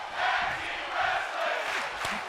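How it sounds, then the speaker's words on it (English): An arena crowd roars in WWE 2K24, a wrestling video game, in a sustained wash of cheering that swells in waves, with a sharper burst near the end. "the crowd loving what they're seeing"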